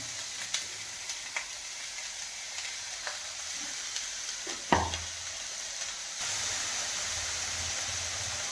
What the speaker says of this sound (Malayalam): നമുക്ക് ഈ വാഴക്കൂമ്പ് ഇതിലേക്ക് ഇടാം